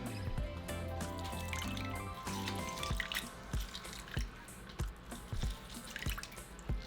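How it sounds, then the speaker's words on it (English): Juice drips and splashes from an orange squeezed by hand into a bowl, a run of close, wet, irregular drops and spatters with no talking. "I'm going to squeeze out my orange"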